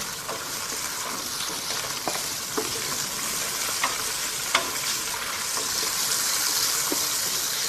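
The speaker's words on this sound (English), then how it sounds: "Toss the scallops in. These need to be cooked only very lightly indeed." Scallops frying in garlic-infused oil give a steady, loud sizzle with soft scraping stirs and a few sharp pops and ticks throughout; no one speaks.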